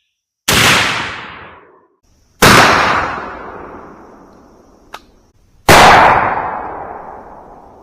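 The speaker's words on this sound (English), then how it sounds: "So here we go with the first shot." Three loud 12 gauge shotgun blasts firing Federal Flitecontrol #00 buckshot, each a sharp boom with a long decaying echo, spaced a couple of seconds apart, with a small click between the second and third.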